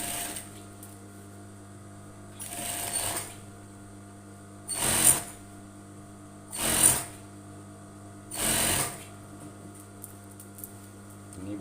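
Sewing machine stitching the hem of a half-circle skirt in short bursts, four separate runs of rapid mechanical whirring with brief quiet pauses between them, close and fairly faint over a low steady hum.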